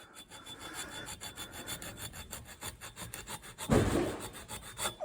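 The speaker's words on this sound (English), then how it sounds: "The file won't go all the way into the middle of the grooves to clean them out" Hand file rasping across bolt thread grooves during a Ford/New Holland front hub and final drive repair, a steady run of short dry scraping strokes up close, with a heavier louder pass near the end.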